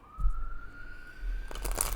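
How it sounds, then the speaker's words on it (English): A siren wails steadily in the distance, rising in pitch, with traffic rumble and noise swelling toward the end. "There are sirens going off like crazy."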